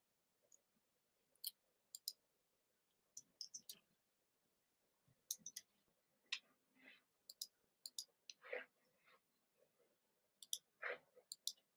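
Sparse, quiet clicks from a computer keyboard arrive singly and in small clusters, separated by stretches of near silence.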